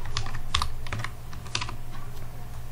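Typing on a computer keyboard while entering text in MS Word, a quick uneven run of close, crisp key clicks over a low steady hum, with no talking.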